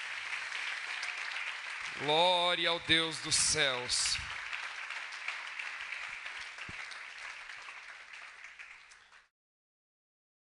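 Strong applause from a church audience fills the room throughout, with a voice speaking over it midway and the clapping gradually fading out near the end.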